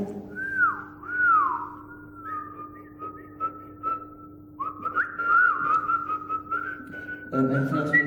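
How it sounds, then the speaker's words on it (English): A person whistles a gliding, wavering melody, clear and close, with long held notes and slides, alone against a faint steady hum. "How well can you whistle?"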